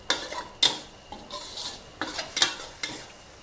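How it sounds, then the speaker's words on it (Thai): Holy basil and century egg being stir-fried in a pan, with repeated close scrapes and clinks of a utensil against the pan over a soft sizzle, several distinct strokes spaced unevenly. "ผัดให้ได้ที่ให้น้ำซอสประมาณนี้ค่ะ"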